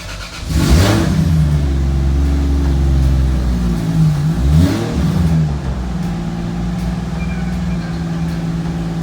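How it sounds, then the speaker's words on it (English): A Lexus drift car with a newly fitted engine cranks and fires up, then revs loudly twice before settling into a steady close idle, with no talking. "So I guess let's see if she fires up."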